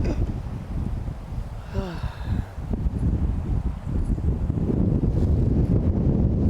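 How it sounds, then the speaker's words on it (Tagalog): Strong wind buffets the microphone in a steady, loud roar at a seaside camp, with a brief tonal squeal near the start and rumbling gusts throughout. "Lakas ng hangin."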